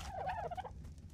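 Poultry in the Ark survival game, Caballus map, near a coop: a short, close gobbling bird call lasting about a second, with no talk over it.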